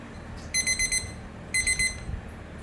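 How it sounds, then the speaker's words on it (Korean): A cooking timer alarm rings in a home kitchen while bean sprouts boil, two short bursts of rapid high electronic beeps, about four beeps each, close and clear over a low background hum. "책에 나온 시간으로 맞춰놓은 알람이 울리면 차에 받쳐줍니다"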